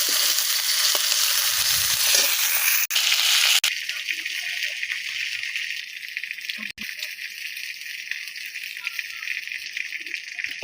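Steady hissing sizzle of fish frying in a pan, fairly loud and continuous, with a brief louder burst early on before settling to a constant crackle.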